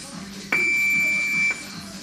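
A single sustained electronic beep sounds for about a second, steady and clear, over a quiet room background.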